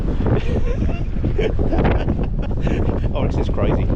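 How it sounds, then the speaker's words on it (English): A strong Chinook wind gusts hard through Calgary in January, buffeting the microphone with loud, continuous roaring blasts that swell and dip without pause. "Yes, it's a little on the windy side."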